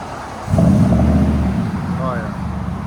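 A 2019 Nissan Titan 5.6L V8 with Borla S-Type true dual exhaust idles with a deep rumble that swells as the engine is blipped, then settles into a steady throaty burble. A voice speaks briefly over it.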